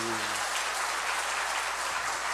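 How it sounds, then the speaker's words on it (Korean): Church congregation applauding during a testimony service, a steady dense wash of clapping that fills the whole stretch at even loudness, with a low voice briefly audible at the very start. "그럼 박수 한번 보내주세요."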